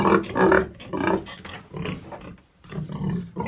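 Pigs grunt and snort in a series of rough, close bursts with short pauses between them.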